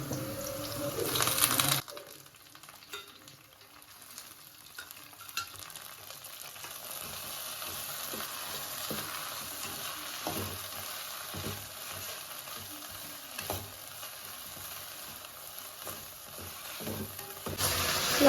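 Mint and coriander leaves frying in a pan for a country-chicken curry, a steady low hiss of sizzling with occasional stirring scrapes, close and quiet, continuing for many seconds without talk.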